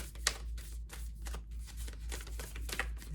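Oracle cards shuffle in the hands in a quiet room, soft repeated riffling and flicking bursts in an uneven rhythm over a steady low hum, close and faint.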